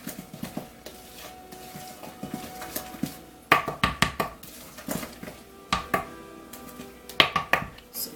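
Butter is stirred into applesauce cake batter made without eggs, with irregular close taps and scrapes of a utensil against a bowl coming in clustered bursts and no talking.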